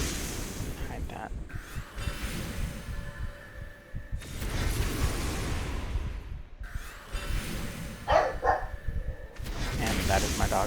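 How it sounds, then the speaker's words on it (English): A dog barks in several separate bursts, set against a steady rushing, whooshing background noise. "And that is my dog barking."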